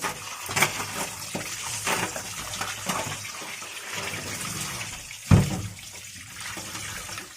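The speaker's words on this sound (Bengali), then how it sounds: "এখন আমি হলুদ আর লবণ দিয়ে ভালো করে মাছগুলো ধুয়ে পরিষ্কার করে নিলাম।" Pieces of pangas fish washed by hand in water with turmeric and salt, a close, steady slosh and trickle with a louder splash near the end.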